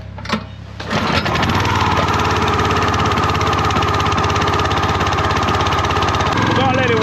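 An engine cranked with the choke on catches after a brief sputter, then runs loudly and steadily close by as it warms up at idle.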